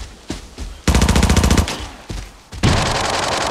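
Loud, close automatic gunfire from a video game plays in sustained rapid bursts separated by short pauses and single heavy shots, with no talking.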